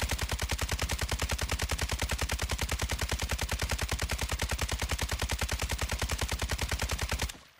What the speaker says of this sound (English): All right, let's test out how good the weapon AI works with the RPK